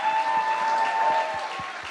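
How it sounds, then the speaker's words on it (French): Audience applause at a youth event, a brief burst of crowd clapping with a steady tone ringing underneath, moderately loud and tapering slightly at the end. "Est-ce qu'on peut les applaudir bien fort"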